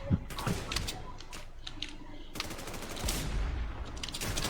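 A powerful gun in the shooter game Warz AfterX fires in rapid, loud bursts with a few heavy shots, and someone speaks briefly between the volleys.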